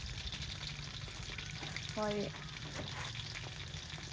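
Battered chicken feet fry in a pot of oil with a soft, steady crackle, faint and close, and a brief clink of utensils partway through while a voice speaks briefly.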